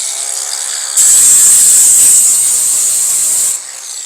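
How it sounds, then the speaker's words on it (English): Paint is stripped down to bare metal on the bed of an F600 pickup truck, producing a loud, harsh, high-pitched grinding burst of about two and a half seconds between quieter stretches. No one talks. "Let's strip this down to bare metal on the spots where we're going to be putting the fiberglass filler."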